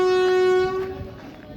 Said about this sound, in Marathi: श्रीगोंदावरून आपली ट्रेन निघण्यासाठी तयार आहे